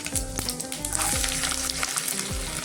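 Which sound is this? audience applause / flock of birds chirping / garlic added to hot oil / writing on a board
garlic added to hot oil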